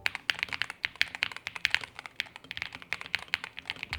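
A gaming keyboard is typed on steadily, each key press giving a deep, rounded thock in a quick, slightly uneven rhythm, close up and with no talk.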